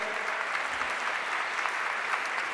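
A seminar audience applauds the undersecretary of Cultural Heritage, a steady wash of many hands clapping evenly across the room.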